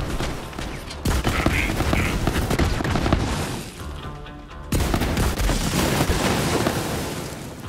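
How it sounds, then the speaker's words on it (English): Dense rapid gunfire in the Borderlands 3 video game, loud and continuous bursts with a brief lull in the middle, over a busy game soundscape. "I wish to shoot some more."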